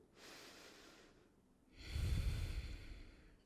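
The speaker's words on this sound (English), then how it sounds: "you're going to hold it up there and breathe, just like our plank" Slow deep breaths held during a no-equipment triceps plank exercise, a soft exhale followed by a stronger, louder breath close to the microphone, no speech.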